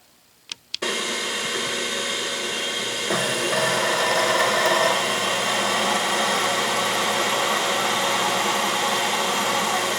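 A drill press bores holes into a metal vise casting, starting with a couple of sharp clicks and then settling into a steady, close whirring drone that grows slightly louder partway through and runs on continuously.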